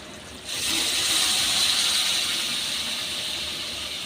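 Drumstick pieces and potato go into a hot pan of fried onion and tomato. A sudden loud sizzle erupts after a brief lull, then settles into a steady, close hiss of frying with no talk.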